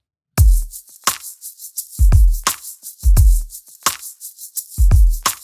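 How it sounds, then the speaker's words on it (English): A lo-fi chillhop hip hop drum loop built in Ableton Live, with a punchy, booming kick and crisp snare or hat hits in a steady, laid-back pattern, loud and alone. "I'm done tweaking and the loop now sounds like this."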